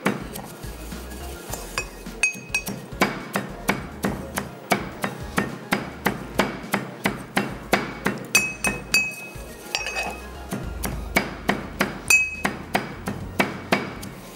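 Spices being coarsely pounded in a hard mortar, a long series of sharp, evenly spaced ringing strikes close by, with a couple of short pauses and no talking.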